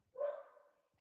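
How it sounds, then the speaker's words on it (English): A single dog bark sounds once, short and fairly close but soft, followed by near silence in a home where a maintenance worker is repairing a broken oven. "So that's my dog barking."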